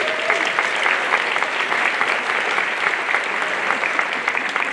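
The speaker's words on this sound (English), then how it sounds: "want to give a round of applause to our high school band director, Ms. Hinkey." Audience at a high school holiday concert applauds steadily, a dense, even patter of many hands clapping that fills the room at a moderate level without pause.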